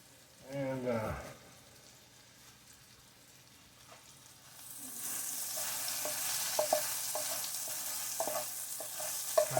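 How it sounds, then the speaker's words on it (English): Eggplant sautéed and stirred in avocado oil in an iron pan: a brief voice at the start, then a rising sizzle with scattered scraping stirs, close and fairly quiet. "you saute this in butter"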